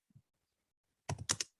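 Windows and G keys are pressed together on a computer keyboard: one faint tap, then a quick close cluster of crisp plastic key clicks in a quiet room.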